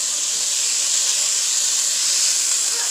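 Vegetables sweating down in a pot for Cajun chicken boudin, a loud, steady, even hiss of steam and sizzle continuing close by without a break or any voices.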